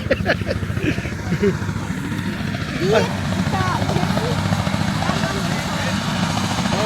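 Helicopter engine and rotor noise at Queenstown, New Zealand, a steady mechanical drone that builds slightly partway through, with excited voices talking and shouting over it.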